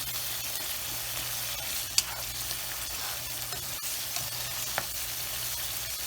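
Onions sweat and fry in a pan for a kabab stew, giving a steady soft sizzle with a couple of faint clicks along the way. No voices are heard.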